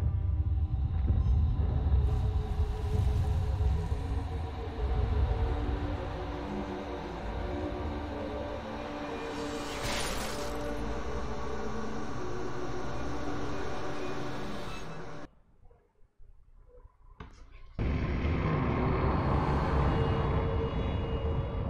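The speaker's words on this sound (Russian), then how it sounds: "Адский поезд." A hell train from the video game Alice: Madness Returns gives off a loud, continuous mechanical rumble and rattle. It briefly drops out near the end, then resumes at full strength.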